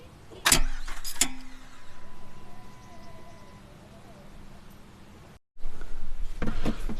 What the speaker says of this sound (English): when you crank the motor, just tap it and it should hit the axle and break your bolt loose